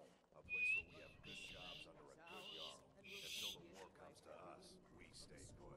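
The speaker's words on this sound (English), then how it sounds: "I don't feel bad about whistling at you" A character whistles in the fantasy role-playing game Skyrim, one short rising whistle near the start, followed by game dialogue and ambient speech throughout.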